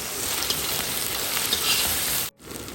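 Ginger garlic paste fries fast over a high gas flame, giving a loud, constant, close sizzle with some stirring. It cuts off abruptly near the end and then resumes more quietly.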